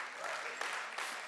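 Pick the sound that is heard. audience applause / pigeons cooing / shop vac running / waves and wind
audience applause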